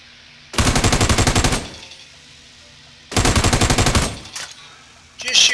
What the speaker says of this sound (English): Just shoot the breaker box.